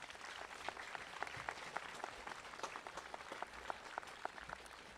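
Graduation audience applauding the school secretaries, steady dense clapping from a large crowd with some sharper individual claps standing out, moderate level and continuous throughout.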